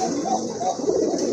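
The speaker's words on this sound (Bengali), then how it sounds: "দেখেন, এই যে কবুতর" Rajgolla pigeons coo in a low, soft rolling murmur, close by under a steady background hiss.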